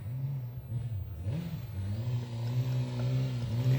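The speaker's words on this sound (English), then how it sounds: "this guy is trying to ride around on his sport bike. It's coming up. He's practicing his dirt skills." A sport bike engine revs and pulls steadily as the rider practices on a dirt section near a campsite, with a continuous close motor drone that rises and falls in pitch throughout.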